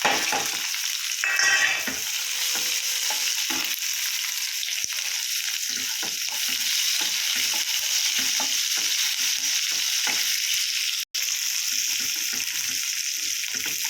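Chopped onions sizzle and fry steadily in hot oil for Odia-style sweet and sour mango chutney, a continuous close crackling hiss with occasional stirring, no talk.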